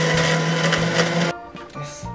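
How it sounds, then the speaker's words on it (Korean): A kitchen blender grinds Oreo cookies with their cream removed, a loud steady whirring for about a second and a half, then a brief pause and a few shorter motor bursts. "절반은 믹서기에 넣을 거예요."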